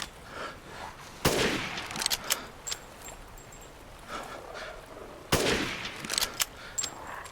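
Gunshots fired at a Lycan in the village in Resident Evil Village, with two loud, sharp reports several seconds apart, each followed by clattering shell and reload clicks over a quiet, tense background.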